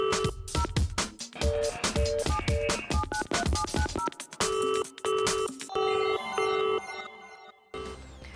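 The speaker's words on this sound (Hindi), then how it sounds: "बिहार से उमेश जी फोन लाइन पर जुड़ चुके हैं।" An electronic phone tone plays a repeating melodic pattern of beeps and chimes, fairly loud and close, with no speech, as a caller joins a Hindi TV call-in show.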